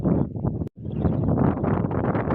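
Strong, cold gusting wind over snow buffets the microphone in heavy low rumbles, broken by a brief dropout, loud and close.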